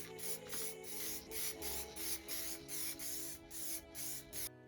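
Repeated hissing bursts of a black spray paint aerosol can painting a Nissan 350Z subframe, about ten short sprays in a steady rhythm, close and fairly loud, with a faint hum underneath.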